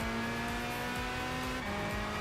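A race car in the video game Gran Turismo 5 drones with a steady, loud engine hum and rough tire noise, with no talk over it.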